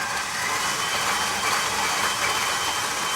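A stand mixer fitted with a paddle attachment creams sugar at low speed that slowly rises, giving a steady, even motor whir and hiss throughout with no talking.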